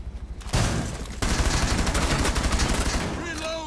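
Rapid automatic gunfire in Rainbow Six Siege, a loud sustained burst of closely spaced shots that cuts in, pauses briefly, then resumes with a steady rattling rhythm, ending with a faint voice.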